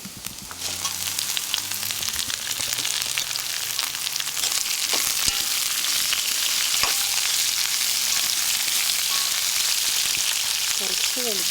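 Onions, shallots and chillies frying in coconut oil for a Kerala dish, a steady loud hissing sizzle throughout with occasional stirring scrapes and clinks, and brief faint talk at the start.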